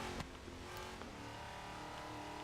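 Car engine in the racing game Forza Horizon 3, a steady, fairly quiet droning tone with brief clicks and small bursts layered over it.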